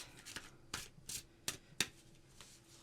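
Tarot cards are shuffled in a series of crisp, riffling bursts, about six quick flurries spaced unevenly in a quiet room.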